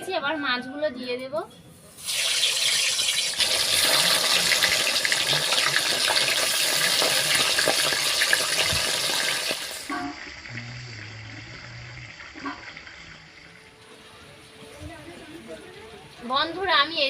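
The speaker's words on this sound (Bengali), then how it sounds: "তেল গরম করে নিয়েছি, এবার মাছগুলো দিয়ে দেব।" Fish coated in salt and turmeric hits hot oil in a wok and sizzles loudly for several seconds, then settles into a quieter, steady frying hiss, with a few brief voice sounds at the start.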